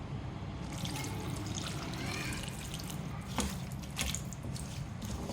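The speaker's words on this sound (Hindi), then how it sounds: "1 कप मैं पानी डालूंगी इसमें।" A cup of water is poured into a cooking pot of mutton and potato curry with chili powders, coriander and oil, making a steady splashing trickle that runs for several seconds with small drips near the end.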